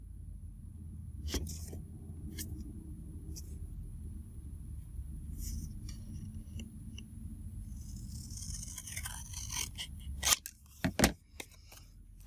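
Scissors snipping through paper to cut out a small journal card, a few close, crisp clips spread through the clip over a low room hum, with a brief cluster of louder snips and handling near the end.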